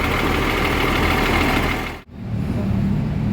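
A 1521-engine tourist bus idles with a steady low diesel rumble and knock, briefly cutting out before resuming, loud and close.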